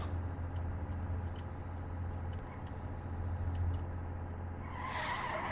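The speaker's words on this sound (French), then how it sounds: "j'ai tenté un frein à main, c'était dangereux" A car engine drones steadily in the video game Arma, then tires screech briefly in a sharp handbrake skid near the end.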